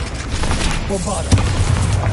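Bombarda explosion spell in Hogwarts Legacy, a heavy booming thud rising out of constant battle rumble and crackle, with a stronger impact near the middle and voices in the mix.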